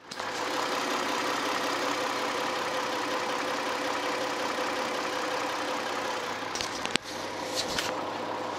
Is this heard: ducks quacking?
no